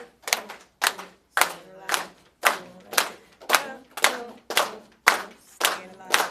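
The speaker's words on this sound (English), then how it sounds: "Can you guys clap for me staying alive?" A group of people claps together in a steady beat of about two claps per second, keeping time to the Stayin' Alive rhythm during a CPR training session, loud and clear with no talking over it.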